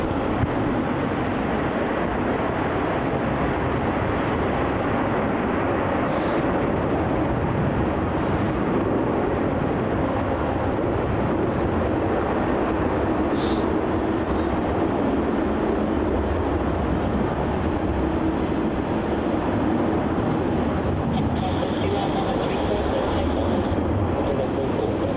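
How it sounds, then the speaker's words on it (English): A Virgin Australia Boeing 737-800 departs Melbourne Airport, its broad jet roar holding steady throughout as a loud, continuous rumble, with some faint speech-like noise mixed in. "On departure, we have a Virgin Australia flight, VA679 off to Perth. Another 737-800."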